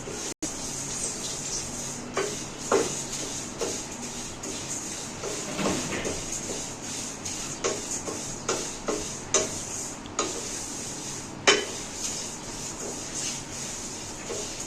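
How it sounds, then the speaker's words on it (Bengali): A spatula scrapes and taps a pan at irregular intervals while spices fry quietly until crisp, sizzling underneath, up close, with no voices. "এগুলো এখন ভাজা হচ্ছে কড়কড়া হওয়া পর্যন্ত।"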